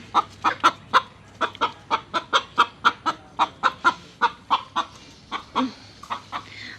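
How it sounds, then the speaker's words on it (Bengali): A rooster and hens, including turkey hens, clucking in a steady run of short, sharp calls, close by and loud, with a louder squawk near the end. "এই যে এখানে হচ্ছে আমার মোরগটা আছে"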